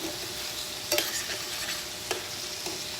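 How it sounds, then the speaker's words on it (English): A utensil scraping the bottom of a stainless pan while beef stroganoff with browned meat and onions cooks, sizzling steadily up close, with a couple of brief sharper scrapes and no voices. "scraping the bottom of my pan"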